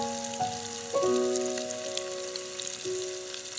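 Walleye frying in a pan at a canoe campsite, a close, steady sizzle with a few sharp crackles, and thin tonal ringing over it, without any talking.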